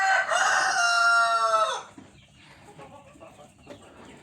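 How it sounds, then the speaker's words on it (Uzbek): A Kuchinsky Jubilee rooster lets out a loud, near crow, followed by softer, scattered clucks and faint farmyard noise. "Bu juda ham moslashuvchan tovuq"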